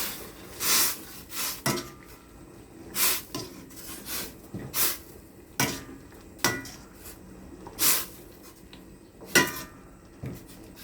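Metal spoon scrapes and clanks against a pot while vegetables such as saluyot are stirred in a simmering Filipino dish, roughly a dozen distinct clatters spaced irregularly, close and fairly loud over a quiet background.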